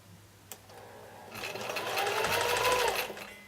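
A sewing machine starts stitching quilt fabric for an economy patch block, a brief click then a rising whirring run of stitches lasting about two seconds before slowing, close and alone.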